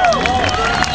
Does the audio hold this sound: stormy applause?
yes